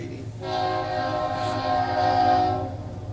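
A passing train sounds a long, steady horn chord over the low rumble of its cars rolling by outdoors.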